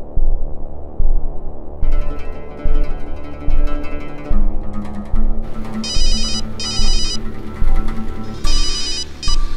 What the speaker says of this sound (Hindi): रानी का फोन है